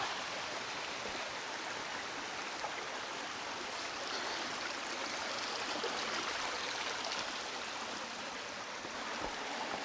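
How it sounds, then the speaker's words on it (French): Mountain torrent rushing over a bare, white-veined limestone riverbed, a steady broadband roar of water running continuously and fairly close, with no voices. "Le bruit du torrent alterne entre un petit grondement ou un doux murmure"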